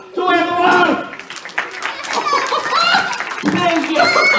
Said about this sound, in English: Big clap to Eduard!